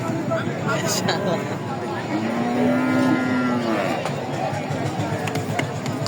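Bulls at the busy Ambari village cattle market in Dinajpur give one long, low moo that swells and fades midway, over a steady din of crowd chatter and nearby voices.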